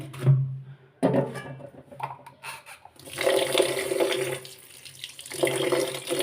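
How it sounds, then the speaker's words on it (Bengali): Running tap water splashes over cooking pots and pans as they are washed in a home kitchen, coming in uneven bursts with a steadier gushing stretch toward the end, close and moderately loud. "এখন হাঁটি পাতিলগুলো ধুয়ে নিব"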